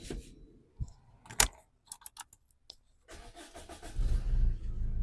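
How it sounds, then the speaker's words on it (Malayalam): Keys jingle near a second-generation Maruti Swift, followed by the starter cranking and the engine catching, then settling into a steady close idle; no talking. "ആ വണ്ടീൻ്റെ നോയ്സ് തന്നെ നോക്കിയിട്ട് നോക്കി."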